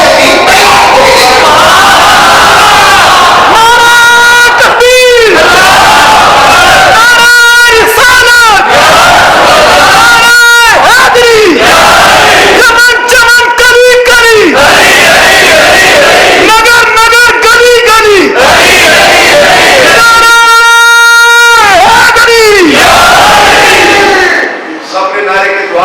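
A large gathering at a religious address chants slogans in unison in response to a leader, repeated loud bursts of massed voices alternating with shouted calls, filling the hall throughout with strong echo.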